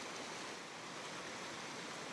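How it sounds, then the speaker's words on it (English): A waterfall on the Georgia Traverse off-road trail, a dense steady roar of falling water heard alone with no break. "So that's the waterfall Thor was talking about."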